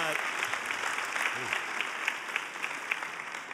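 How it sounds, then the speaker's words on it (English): Audience at a church mental health event giving a sustained round of applause, dense clapping filling the room, with a speaker's voice briefly over it at the start. "You've applauded yourself."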